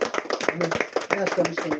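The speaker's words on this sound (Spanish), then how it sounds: "Le damos un aplauso al Señor Jesucristo." Worshippers at a church service in San Rafael, Mendoza, Argentina clap in quick, uneven bursts while voices speak over the clapping.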